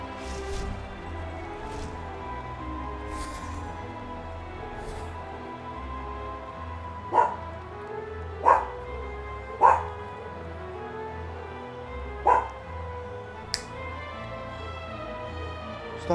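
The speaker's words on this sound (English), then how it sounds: "Stop barking." A dog gives four or five sharp, clear barks in the middle of the stretch, spaced a second or so apart, over a steady low background hum.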